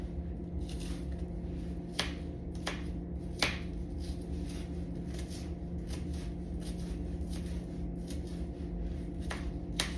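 A knife slicing through half an onion on a cutting board: a steady run of sharp, crisp cuts at an uneven rhythm, close and moderately loud, with no talking.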